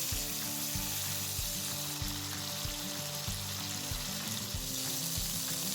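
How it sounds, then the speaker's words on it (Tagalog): Chicken fillet frying in cooking oil in a pan, a steady, dense sizzle close up and continuous throughout, with no voices over it. "we're gonna fry our chicken fillet or fillet until mag-golden brown siya"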